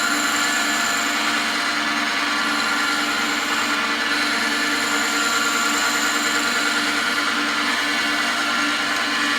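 A skew chisel cuts a pen blank on a wood lathe, giving a steady, dense whirring hiss with a constant motor drone that runs unbroken and fairly loud throughout.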